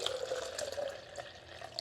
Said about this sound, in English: I'm going to put some of it in the plastic beaker.